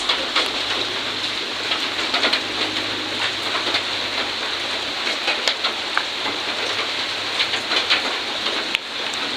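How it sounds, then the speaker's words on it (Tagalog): Steady rain pours down continuously with a dense patter, some sharper drops standing out close by; no voices. "Naulan na naman dito sa amin."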